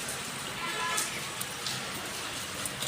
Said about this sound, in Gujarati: વરસાદ દેખાય છે.